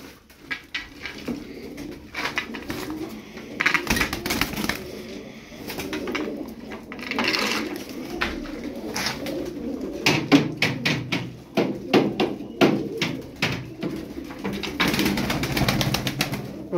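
Tumbler pigeons coo repeatedly in a loft, soft rhythmic calls from several birds close by, with occasional wing flaps and light clatter.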